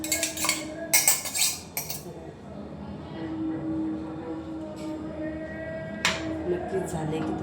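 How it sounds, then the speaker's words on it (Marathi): A sabudana vada mixture gets stirred in a bowl, with a spoon clinking against the sides in a few sharp bursts early on, then quieter scraping under a faint background hum. "बघा आता याचं मिक्स करत आहे."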